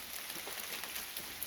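Steady rain falling outdoors in a wooded rural yard, a soft continuous hiss with faint scattered drops, quiet and even throughout.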